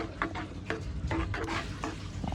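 Roasted cashew nuts being stirred into semiya payasam in a pot, a steady scraping stir with soft clinks of the spoon and a faint simmering hiss throughout, close up and alone.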